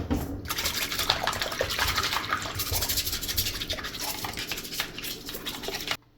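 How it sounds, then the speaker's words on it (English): Tap water running in a sink while a stripped polymer pistol frame is rinsed, a steady close splashing hiss with small clatters, continuous until it stops abruptly near the end. "I'm going to go clean this off in the sink"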